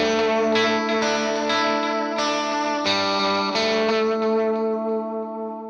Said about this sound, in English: You can also get those lovely chimey strat tones out of this guitar.